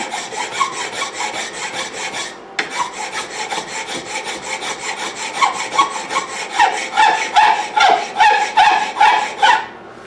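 Rhythmic rasping strokes of a hand file scrape back and forth steadily on a metal part for a meat grinder lamp, growing louder and sharper toward the end, with no voices.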